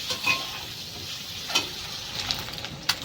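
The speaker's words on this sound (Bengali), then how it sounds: "অল্প করে একটু লঙ্কার গুঁড়ো দিয়ে ভালো করে ভেজে নেব, যাতে ডিমের কালারটা খুব সুন্দর আসে।" Eggs frying in oil with a little chili powder, stirred in a pan, giving a steady soft sizzle with a few brief scraping clicks from the stirring, close and fairly quiet, with no talk.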